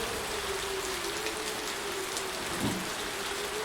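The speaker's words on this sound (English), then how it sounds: "The rain is loud." Loud, steady rain hiss filling the whole clip with a constant wash of drops and no pauses, under a faint tonal hum.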